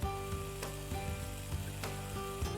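Plump cherry tomatoes drop back into a hot pan and sizzle steadily, with a few soft knocks and clatters from stirring over a constant frying hiss.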